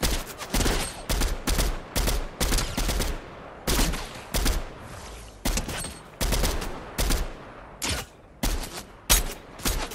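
Rapid gunfire bursts in the video game Fortnite, loud and close, repeating in quick irregular volleys with short gaps across the whole stretch.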